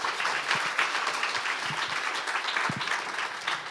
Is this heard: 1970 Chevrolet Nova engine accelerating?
no